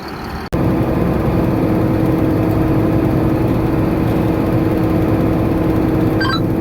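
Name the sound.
tractor engine running while pulling a grain cart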